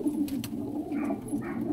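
A pigeon coos close by in a Faisalabad pigeon setup, its low soft calls repeating over a steady murmur of other birds, with no voices.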